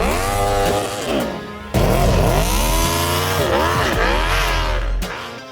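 Aprilia Tuono V4 converted into a snow bike, its engine revving loud and close in repeated rising and falling surges, with a sharp burst of acceleration partway through.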